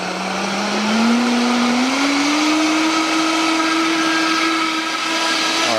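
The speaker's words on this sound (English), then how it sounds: "we're going to blend this up now until it's nice and creamy" A blender whirs through a creamy jalapeño sauce as the oil emulsifies. The close, loud motor whine climbs in pitch and then holds steady to the end.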